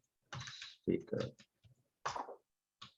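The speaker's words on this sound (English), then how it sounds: "Sorry for my typing" Typing on a computer keyboard during an online class meeting: a few short, close bursts of clattering keystrokes separated by brief pauses.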